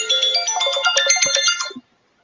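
A phone ringtone playing a bright, rapid electronic melody of quick repeated notes for under two seconds, loud and close, then cutting off into silence.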